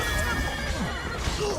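A horse whinnies in The Witcher 3: Wild Hunt, a fairly faint drawn-out call sitting inside a dense, continuous game soundscape of ambient noise and effects.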